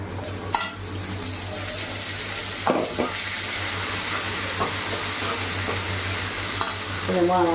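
Potatoes frying in a pan for a potato-tomato curry, steady sizzle with spoon stirring scrapes and occasional metallic knocks, close and continuous.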